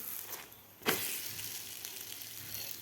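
A jaggery and peanut stuffed flatbread roasts in a pan until crisp on both sides, a soft steady sizzle with a brief louder flare of frying partway through.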